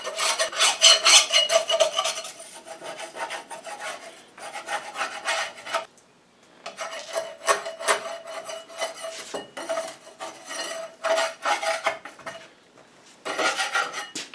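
Loose paint being scraped off a metal plow-damaged bench seat, rasping strokes in bursts with brief pauses between, close and fairly loud with no talking.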